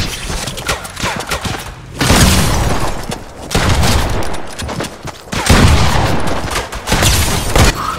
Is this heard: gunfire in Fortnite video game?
yes